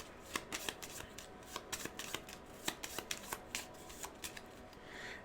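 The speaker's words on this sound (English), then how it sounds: "Shuffle it up." A deck of board game cards for Aeon Trespass: Odyssey is riffle-shuffled close by, a series of crisp rapid flutters and snaps repeating in quick bursts against a quiet background.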